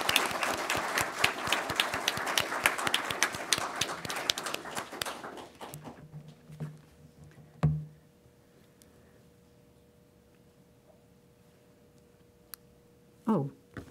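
An audience at a Los Angeles Fire Department commission ceremony breaks into loud, dense applause that fades out after about six seconds, followed by a few scattered thuds and shuffles in a quiet room.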